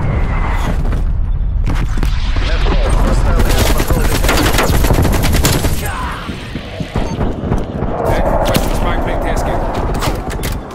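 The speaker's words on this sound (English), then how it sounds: "Artillery inbound." Heavy explosions and rapid gunfire from an artillery strike in Call of Duty Cold War, loud and dense, with booms and crackling bursts layered together and fading slightly toward the end, with voices speaking over it.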